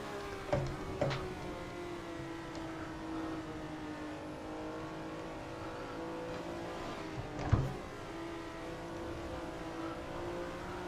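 Ferrari race car lapping the historic 1967 Nordschleife in a racing game, engine whining at steady high revs with gear shifts, a couple of sharp knocks standing out, moderately loud and continuous.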